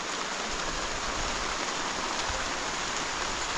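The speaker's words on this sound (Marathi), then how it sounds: "पाऊस पण तेवढाच पडतो आहे" Steady evening rain of the retreating monsoon over village rice fields hisses evenly and continuously, a dense wash of falling water with no breaks.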